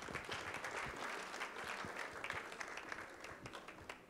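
Church congregation clapping together during a service, a faint but steady patter of many hands with individual claps standing out, easing slightly toward the end.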